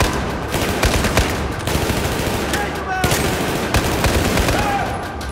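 Sustained automatic gunfire in a modern military shooter, a loud continuous stream of rapid shots with sharper single cracks standing out, fighting in an indoor atrium.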